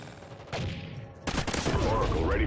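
Gunfire from the Call of Duty: Ghosts multiplayer match, dense bursts and crackling shots, loud and close, with a sharp burst midway followed by continued firing and game noise.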